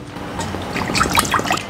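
Water pours into a cooking pot for boiling mung beans, a short, steady close splashing trickle.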